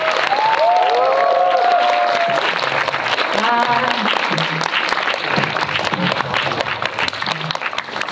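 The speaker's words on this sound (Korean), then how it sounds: "큰 박수로" Sustained audience applause fills a film screening hall as guests are welcomed on stage at a post-screening talk for the Korean film Moonlit Winter. The dense clapping is steady and loud throughout, with some cheering tones and voices over it.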